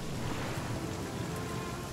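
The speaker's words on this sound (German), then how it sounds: "wenn da zwischendurch das Gewitter ist und man kaum was sieht" A thunderstorm in the survival video game The Flame in the Flood brings steady, dense rain hissing down, with a low rumbling underneath and no talking.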